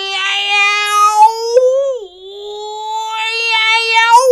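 Loud, close meowing imitated by a human voice, a long wavering cry with a sliding dip in pitch partway through, standing alone without other talk.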